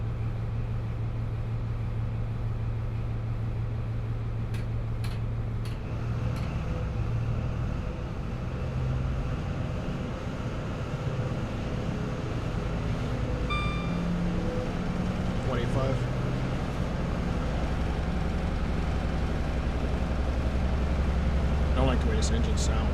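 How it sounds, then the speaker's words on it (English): A diesel HST train engine idles in a railway simulator game, giving a loud, steady low rumble that drones without a break for the whole stretch, with a few faint higher clicks and hums on top. "I don't like the way this engine sounds, gotta be honest."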